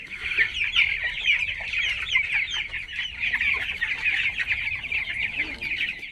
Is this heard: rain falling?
no